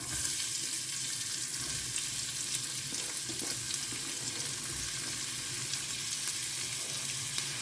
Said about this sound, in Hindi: प्याज को ना हमें 1-2 मिनट के लिए अच्छे से भून लेना है।